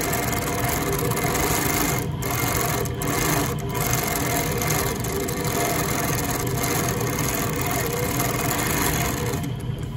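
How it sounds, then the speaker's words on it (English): An Innova longarm quilting machine stitches with a steady, close mechanical whir and rasp that runs unbroken for the full stretch, with no talking. "I'm gonna pick up my bobbin thread and do some stitches."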